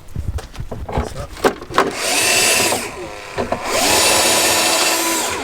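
A power drill bores through polystyrene while fitting out a car, a loud whirring grind in two long bursts after a few sharp knocks and clatters, with brief talk at the start.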